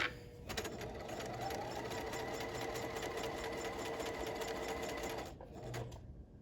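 Sewing machine stitching an apron pocket, a steady fast mechanical whir with rapid needle clatter running for several seconds, then stopping abruptly near the end, no talk.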